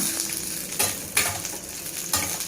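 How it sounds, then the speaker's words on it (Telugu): Green chillies fry and sizzle in an oiled pan for Kadapa kattu pongal, with a constant crackling hiss and several sharp scrapes from a stirring spoon against the pan. "ఒక్కసారి ఇట్లా కలబెట్టి మూత వేసి"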